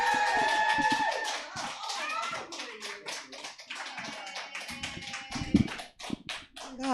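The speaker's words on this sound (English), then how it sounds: "put your hands together. Start clapping" Comedy club audience clapping and cheering to welcome the next stand-up performer, dense close applause with scattered sharp hand claps and whoops, thinning out near the end.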